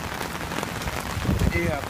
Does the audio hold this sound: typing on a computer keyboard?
no